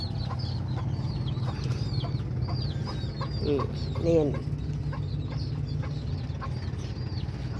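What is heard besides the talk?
pet chickens clucking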